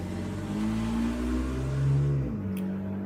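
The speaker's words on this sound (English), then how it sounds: "people don't stop going by this house in their loud-ass cars like this" A loud car passing outside a house, its medium engine revving up and then dropping in pitch as it goes by, a continuous close, strong growl lasting a few seconds with no talk.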